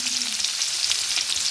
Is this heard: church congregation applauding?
no